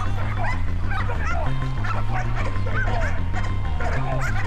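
Loud, continuous barking and yelping from attack-trained dogs set on aspiring commandos in an arena test, several dogs overlapping with whimpers and yips throughout.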